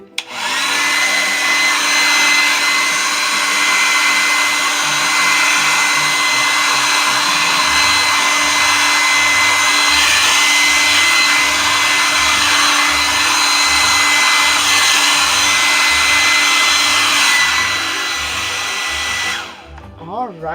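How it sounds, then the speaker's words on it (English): A Conair hair dryer runs on high in cool mode, blowing paint across a canvas for a Dutch paint pour, with a loud, continuous whooshing roar that cuts off just before the end. "but the hair dryer is a little noisy."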